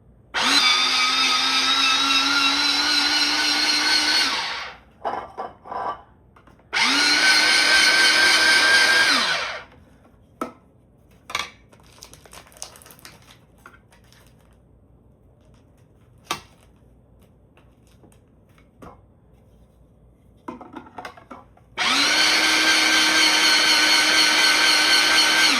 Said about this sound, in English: So I got this automatic shredder off Amazon.